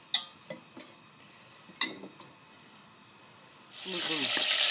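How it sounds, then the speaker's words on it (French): Butter melting in a pan for tomato sauce, heard after a few sharp kitchen clicks and knocks, then a steady broadband sizzle that rises and holds for the last second. "on fait fondre le beurre dedans"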